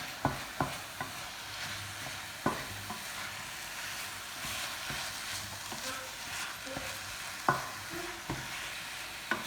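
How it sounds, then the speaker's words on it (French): Meat and onions being stirred in a frying pan, with a steady sizzle beneath scattered sharp scrapes and clicks of a utensil against the pan, fairly close and moderate in level, no talking. "on mélange bien, pour que la viande s'imprègne bien des oignons"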